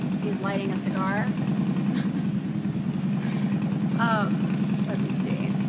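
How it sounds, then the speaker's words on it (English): A motorcycle idles nearby with a steady, low rumbling drone that persists throughout, while people talk over it. "I wish the motorcycle would leave"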